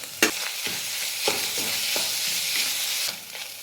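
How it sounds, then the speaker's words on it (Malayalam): Grated coconut fries in hot coconut oil with a steady bright sizzle, broken by several clunks and scrapes of a spoon stirring the pan; no voices. "തേങ്ങ ഇട്ട് കൊടുക്കുക"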